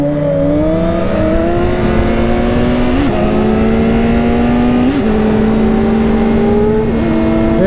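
Kawasaki ZX10 motorcycle with a short side-mount exhaust accelerating hard toward redline, a loud, continuous rising engine whine with steady climbing pitch and brief dips at gear changes, close and unbroken for the whole stretch.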